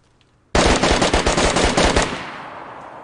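A rapid burst of automatic gunfire from a video game shootout, about a dozen loud close shots over roughly one and a half seconds, then a fading echo.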